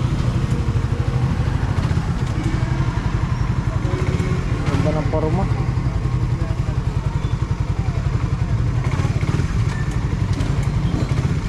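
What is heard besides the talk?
motorcycle engine idling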